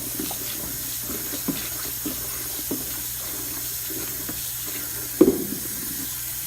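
A dish is scrubbed with the soft side of a sponge in soapy sink water, with a steady running-water hiss, a few soft knocks, and one louder clunk near the end.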